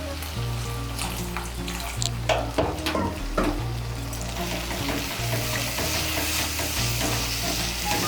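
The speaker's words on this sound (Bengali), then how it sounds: "মিশিয়ে নিয়ে মশলাটাকে ভালো করে কষিয়ে নেব" Spice paste of cumin powder and a splash of water stirred and fried in a pan for a spiny gourd ghonto: a loud, steady sizzle with scraping spatula strokes and a few sharper clinks near the middle.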